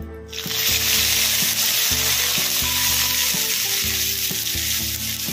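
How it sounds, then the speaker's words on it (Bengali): Onion paste, a bay leaf and chilli go into hot oil, bursting into a loud, steady sizzle that fills the whole clip, with a few soft knocks of the pan underneath. "তেলের মধ্যে দিয়ে দিচ্ছি একটা তেজপাতা লঙ্কা এবারে দিয়ে দিচ্ছি পেঁয়াজ বাটা"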